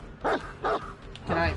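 Dog barks from the Dead by Daylight video game, three short barks in an even rhythm at moderate loudness, with game sounds around them.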